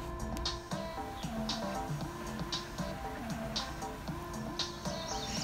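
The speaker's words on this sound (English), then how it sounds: "just listen to those beautiful birds singing." Birds chirp and sing in short bright bursts over a steady background of tonal hum and clatter, continuous throughout.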